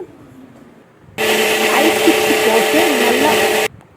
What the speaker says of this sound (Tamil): நம்ம வந்து மிக்சியில் போட்டு தான் அரைக்க போகிறோம்